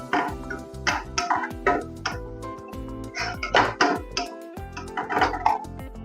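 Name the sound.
stirring red chutney masala in a pan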